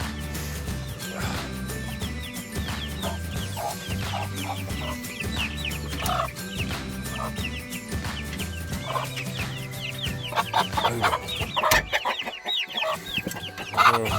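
Many chicks clucking and squawking close by in a crowded coop, a dense, continuous chorus, with a person briefly exclaiming near the end.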